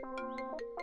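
Short burst of a mobile phone ringtone, a few bright electronic tones pulsing in quick succession, faint and alone with no talk.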